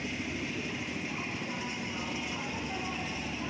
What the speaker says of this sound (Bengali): ট্রেন এসে দাঁড়িয়েছে রামপুরহাট স্টেশনে